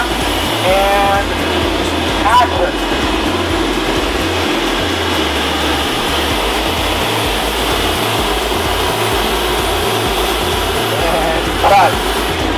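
A wind machine on a film set for a music video shoot runs with a steady, loud whooshing fan roar and low mechanical hum, while voices speak over it.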